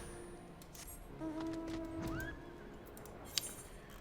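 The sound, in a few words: horse neighing in the video game Final Fantasy XIV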